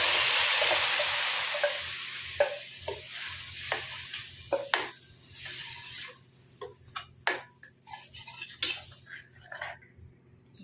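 Ground masala paste goes into a pan for a kulambu curry, sizzling and being stirred with a utensil, with scattered scraping and clinking against the pan after an initial loud hiss.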